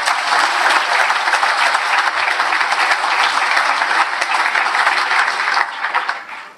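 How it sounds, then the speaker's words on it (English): Loud, sustained applause from a large indoor audience at an evening event, honoring Colin and his staff; a thick, continuous roar of many hands that holds steady, then tapers quickly in the final second. "So a round of applause for Colin and his staff."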